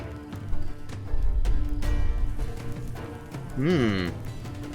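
A cow in the video game Thronebreaker: The Witcher Tales lets out one short, wavering moo near the end, amid steady game music and sound effects.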